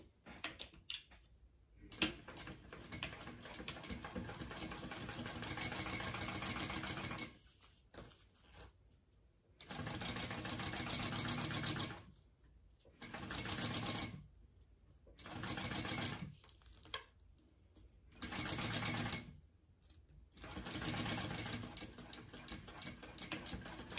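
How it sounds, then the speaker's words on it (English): A sewing machine stitches a zipper seam on a handbag in repeated bursts of fast, rhythmic whirring and ticking, several runs of a few seconds each separated by short pauses, close and clear. "And then I will sew at that bigger seam allowance now along the zipper."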